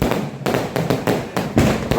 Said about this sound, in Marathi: फक्त असे फटाके आणलेले आहेत.